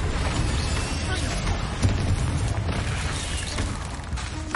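Incendio fire spell cast in Hogwarts Legacy, a dense roaring burst with low booming rumble that rises and holds steadily throughout, mixed with crackling game effects.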